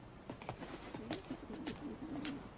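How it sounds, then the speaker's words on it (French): Pigeons at a cage coo softly in low, rolling murmurs, faint and close against a steady background hiss. "Une cage pour mes pigeons."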